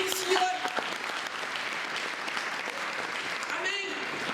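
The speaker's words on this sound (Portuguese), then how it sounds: "Você pode aplaudir forte o nome do Senhor." Church congregation applauds together during a morning service, a steady wash of clapping throughout with a preacher's voice briefly heard over it.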